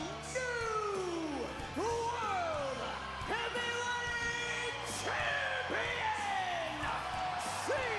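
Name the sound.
loud wrestling crowd cheering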